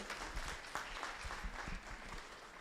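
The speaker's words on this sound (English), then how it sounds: "A round of applause for them." Applause from an audience at a swearing-in ceremony, a steady, fairly faint patter of many hands clapping at a distance, continuous throughout.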